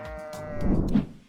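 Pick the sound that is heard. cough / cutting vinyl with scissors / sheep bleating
sheep bleating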